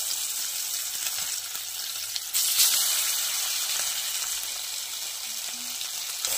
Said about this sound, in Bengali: লাল লাল করে মাছগুলোকে ভেজে আমি তুলে নিয়েছি, বাকি মাছগুলো দেবো তেলের মধ্যে